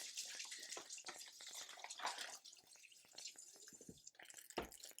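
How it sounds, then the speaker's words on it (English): Hands rinsed under a running kitchen tap, a steady hiss of water broken by splashes and drips, close and fairly quiet, with no talking. "let me rinse my hands off again"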